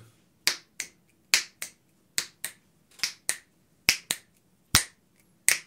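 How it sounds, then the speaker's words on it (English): Sharp finger snaps repeated about a dozen times in a loose, uneven rhythm, crisp and close with quiet between them. "Snap your fingers again."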